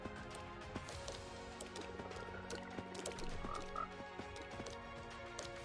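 Frogs croak in the Minecraft 1.19 Wild Update, a chorus of repeated ribbity calls layered over one another at a moderate distance, steady and without talk.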